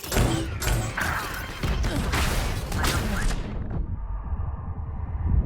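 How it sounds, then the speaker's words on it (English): Loud burst of explosions and rapid gunfire-like cracks from a Raze grenade in Valorant on Bind, with several sharp blasts before cutting to a quieter rumble. "Grenade! Here comes the party!"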